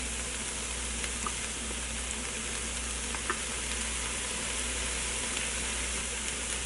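Dirty rice mixture being stirred in a Ninja Foodi, a steady close sizzle and hiss with faint utensil scrapes throughout, no voices.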